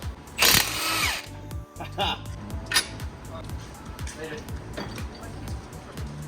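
A power tool whirs in short bursts while working on a 2023 BRZ, mixed with clattering metal and handling noises, with a voice talking in between.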